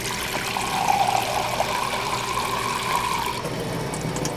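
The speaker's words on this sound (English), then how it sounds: "he forgot that he needs to put 3 cups of water in here" Water poured into a venison summer sausage mixture, a steady trickling stream that runs for several seconds and then stops, close and moderately loud with no talking.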